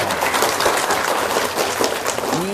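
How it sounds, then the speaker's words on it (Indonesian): Audience applause at an Indonesian religious talk, a steady dense patter of many hands clapping, fairly loud and continuous throughout with no talk over it. "Tepuk tangan dong."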